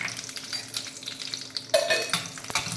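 Cashew nuts frying in ghee in a pan for a semolina sweet, a steady close sizzle with stirring scrapes and a brief utensil clink, no voices.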